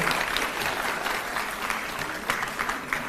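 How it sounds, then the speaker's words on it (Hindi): Enthusiastic crowd applause for a troupe of kung fu nuns at a Delhi government annual awards ceremony, a steady roar of many hands clapping with occasional sharper claps near the end. "जोरदार तालियां हमारी कुंग फू नन्स के लिए"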